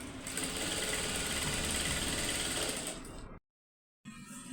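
A Jack industrial sewing machine runs at high speed, giving a close, even, continuous mechanical whir that cuts off abruptly for a moment near the end before resuming.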